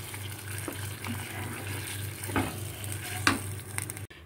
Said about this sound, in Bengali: এবার এটা দিয়ে খুব ভালো করে আমাকে মেশাতে হবে